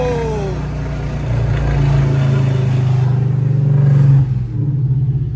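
A Chrysler 300 running with its catalytic converters removed roars loud and close, a deep raspy exhaust drone that swells as the revs climb and hold, then dips briefly before carrying on.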